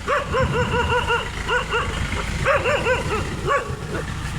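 A dog barks repeatedly in quick, yappy bursts, close by, with short pauses between volleys and some background noise underneath.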